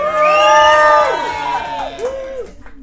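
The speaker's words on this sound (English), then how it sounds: "If anyone in the audience thinks Team A should get the points for this, give me a shout." Studio audience at a comedy panel show shouting and whooping in support of a team, a loud sustained crowd roar with overlapping voices that swells then tapers off with a few lingering yells.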